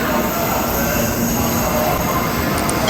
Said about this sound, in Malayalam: നമ്മുടെ ബുള്ളറ്റ് ട്രെയിൻ അതാ വന്നുകൊണ്ടിരിക്കുകയാണ്